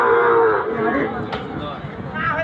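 A Sahiwal bull calf moos at a busy cattle market, a sustained low bellowing call, loud and close, with crowd chatter and market noise underneath.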